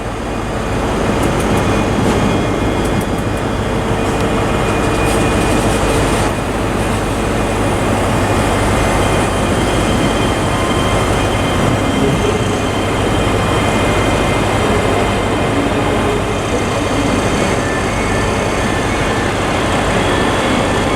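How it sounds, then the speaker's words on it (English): A ScotRail train pulls out of Glasgow Queen Street station for Edinburgh, a loud, continuous, close rumble of engines and wheels that holds steady with no break. "And whistle's also gone for the 11:30 ScotRail service to Edinburgh, which is departing slightly behind schedule."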